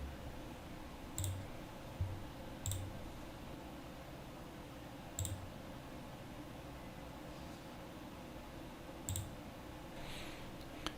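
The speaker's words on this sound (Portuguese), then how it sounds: "Agora que eu vou clicar novamente em integração contabilidade." Several sharp computer mouse clicks while operating accounting software, spaced irregularly over steady faint background hiss, close and clear with no talking.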